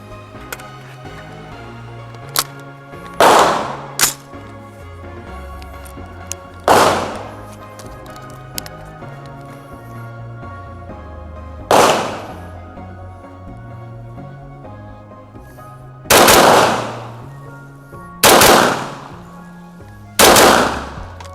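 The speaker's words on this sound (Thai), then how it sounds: "เดี๋ยวผมจะลองยิง เร็วๆดูนะครับว่าปืนกระบอกเนี่ยเวลายิงเร็วๆแล้วดีคอยเป็นยังไงนะครับ" A CMMG Banshee AR-style gun fires rapidly at a target, with loud, sharp gunshots coming singly and in quick bursts of two or three. Each shot echoes briefly, with short pauses between volleys.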